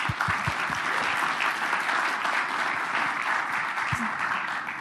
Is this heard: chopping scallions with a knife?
no